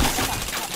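Rapid bursts of gunfire in a video game, a dense, loud crackle of overlapping shots packed into under a second, with no voices heard.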